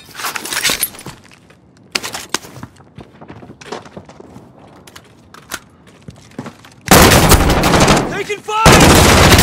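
Gunfire in the video game Call of Duty: Warzone, with scattered sharp shots and short bursts followed by loud, sustained automatic fire and explosions near the end, under occasional game voice callouts.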